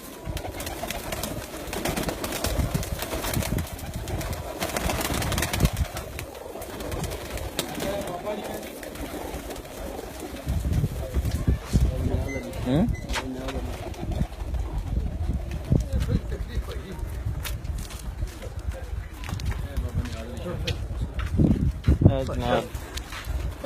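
Pigeons on a rooftop coo in low, repeated throaty calls through much of the scene, near and fairly clear, while people talk over them at times and a few footsteps shuffle about.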